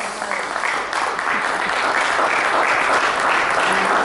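Loud, sustained audience applause at a hypnosis and Time Line Therapy demonstration as a woman is called to the stage, steady clapping throughout with no gaps, close and full.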